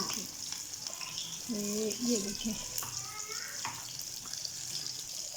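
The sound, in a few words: pakoras frying in oil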